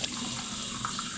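Hot water runs steadily from a tap into a sink while a mason jar is cleaned, giving a brief, even close-up rush of flowing water.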